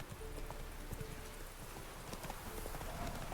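In The Witcher 3 video game, horse hooves clip-clop in a steady, even rhythm. The hoofbeats sound fairly faint against soft game ambience.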